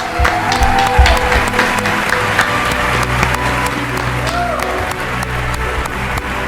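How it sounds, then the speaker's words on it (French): An audience gives an ovation for boxer Clément Loko, sustained clapping across the whole stretch at an even level, with a low hum and some voices underneath. "on va ovationner pour Clément Loco"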